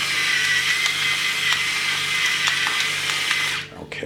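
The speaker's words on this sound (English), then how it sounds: "nothing brings out the flavour of tomatoes better than freshly ground black pepper, especially if it's a bit coarse ground" A pepper mill grinding black pepper coarsely over tomatoes, a steady close rasping grind lasting a few seconds before it stops abruptly.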